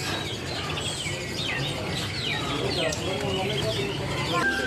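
Silver perkutut zebra doves cooing in a bird shop, soft repeated rolling coos and light chirps mixed with other birds, heard under someone talking.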